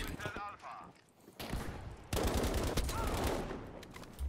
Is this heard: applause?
no